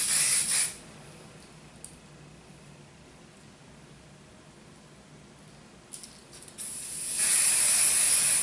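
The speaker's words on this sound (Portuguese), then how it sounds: "Vou usar um spray para tirar esses cabelinhos que ficam" Hairspray hisses from an aerosol can in a sustained burst, pauses briefly with a faint click, then sprays again loudly, close up with no talking.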